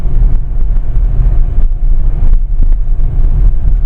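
A 2016 Chevrolet Colorado LT 4x4 diesel engine runs loud and close, a throaty low rumble with wind buffeting the microphone.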